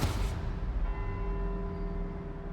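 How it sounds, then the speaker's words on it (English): Church bells ringing across Edinburgh in the racing game Forza Horizon 4, a sustained resonant tone with lingering overtones that slowly fades, over low rumbling background noise. "let's see if we can visit every bell tower in Edinburgh and get back here before they all stop ringing"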